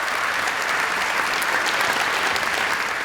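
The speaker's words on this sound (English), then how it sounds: "Let's give her another round of applause" Audience at a refugee award ceremony applauding, a dense, steady wash of clapping from a large crowd that holds at full strength throughout.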